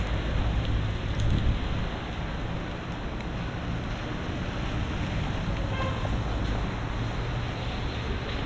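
Heavy storm rain pours steadily in Sidi Bel Abbes, Algeria, a dense, continuous roar with a low rumble beneath, loud and unbroken throughout with no voices.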